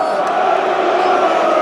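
Hull City supporters roar as a steady crowd din inside Wembley stadium during a play-off final, a dense, sustained wall of cheering voices without a break.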